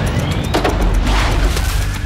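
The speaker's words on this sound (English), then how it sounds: "When the foil attached to the balloon reacts with the microwaves, it produces a spark, which ignites the petrol and produces a fiery explosion" Fiery petrol explosion ignited by a spark from foil on a balloon inside a microwave, a loud broad roaring burst with rumbling crackle sustained across the moment, no voices.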